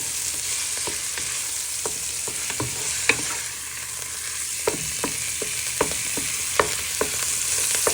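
Pork mince browns in a hot pan with a steady sizzle, while a utensil chops and stirs it, producing sharp scraping taps at irregular intervals.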